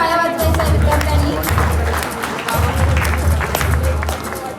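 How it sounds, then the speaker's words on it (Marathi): Students clapping at a school prize distribution ceremony, a dense, steady wash of applause from a crowd filling the room, with a brief dip midway and background chatter mixed in. "जोरदार टाळ्या वाजवायच्या विद्यार्थ्यांनी"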